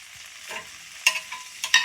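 Paneer fried rice stirred in a hot pan gives a light sizzle broken by several sharp, bright scrapes and clinks of the spatula, clustered in quick bursts.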